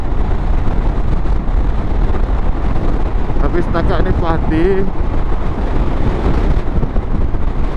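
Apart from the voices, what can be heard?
wind buffeting on Yamaha Xmax 250 windshield while riding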